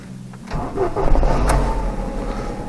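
A car engine cranks and catches, then settles into a steady running rumble, heard close up and fairly loud, with no talking.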